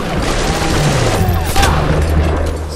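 Rapid machine gun fire in the video game BioShock, a dense loud stream of overlapping shots with booming impacts for a few seconds.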